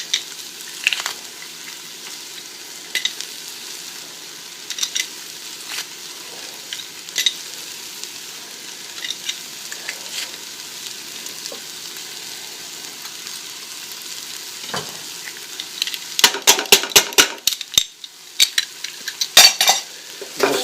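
Garlic and vegetables sizzling steadily in a pan for a lasagna, with a spoon scraping and clinking against the pan as they are stirred, the clatter growing louder and more frequent toward the end.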